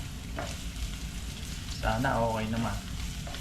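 Onion and garlic frying in olive oil, a soft steady sizzle with a louder hiss and stir midway, while a voice briefly talks over it.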